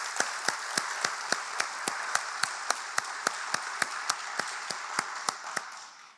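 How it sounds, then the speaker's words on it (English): A steady wash of audience applause fills a hall at a State of the City address in Rockdale, sustained and even for several seconds before tapering off, with a regular ticking beat running through it. "a round of applause for your efforts in making Rockdale stronger each day"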